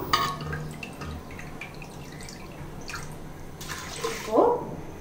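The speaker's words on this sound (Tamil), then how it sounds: "5 கப் அரிசிக்கு 5 கப் அளவுக்கு தண்ணீர் ஊற்றி ஊற விடலாம்." Water is poured over rice left to soak for idli batter, five cups of water for five cups of rice: a splashing, trickling pour with a few drips and a brief louder gush near the end.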